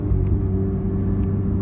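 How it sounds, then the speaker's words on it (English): A Honda Civic Type R engine rumbles loud and close as it rev-matches a downshift into second gear, a steady low drone with no talk. "rev match in the second gear."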